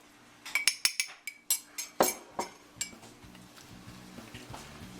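A metal pot holding au jus with tomato paste for a Sunday pot roast clanks and clinks as it is handled, about a dozen sharp knocks in the first half, then fading into quieter kitchen rustling.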